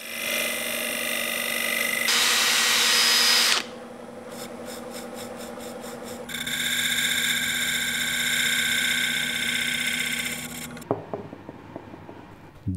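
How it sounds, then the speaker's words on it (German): Wood lathe turning a small lidded jewellery box as a round-nosed hollowing tool scrapes the spinning wood, heard as steady rasping passages with brief pauses and a few sharp taps toward the end, no voices. "Durch die runde Schneide des Ausdrehstahls lässt sich die Kontur noch etwas leichter einebnen."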